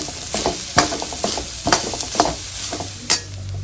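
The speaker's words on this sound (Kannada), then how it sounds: "ಇದು ಗೋಲ್ಡನ್ ಕಲರ್ಗೆ ತಿರುಗುವವರೆಗೆ ಹುರ್ಕೋಬೇಕಾಗತ್ತೆ" Grated coconut dry roasting in a pan without oil until golden, with a soft crackle and repeated scraping, stirring strokes at close range and no talk.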